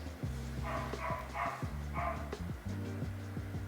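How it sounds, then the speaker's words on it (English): A dog barks in a few short bursts at a distance, layered over a steady humming drone and indoor background noise. "what is this dog situation?"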